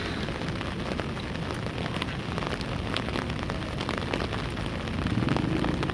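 Monsoon rain falls at Inani beach in Cox's Bazar, a dense, even hiss of drops on surfaces that runs unbroken and fairly close.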